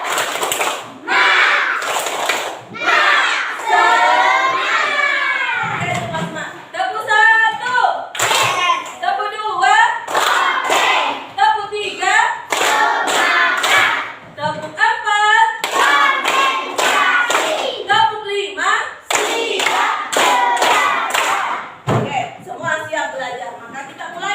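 Schoolchildren in an Indonesian classroom perform a rhythmic spirit clap led by their teacher, sharp bursts of hand claps in patterned groups alternating with chanted voices and speech throughout.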